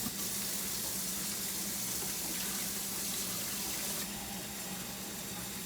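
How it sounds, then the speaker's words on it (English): Tap water runs steadily into a pot being filled for making chicken stock, a continuous close hiss and splash with no talk over it. "For the water in this, I'm probably just going to fill it up to the max fill line."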